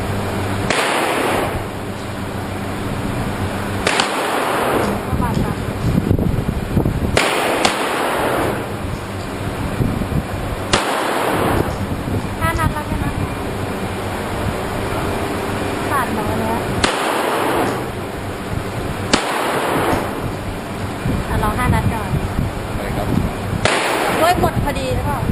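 Repeated sharp gunshots at a shooting range, around seven reports spaced a few seconds apart, loud and close over steady background noise, with people talking in between.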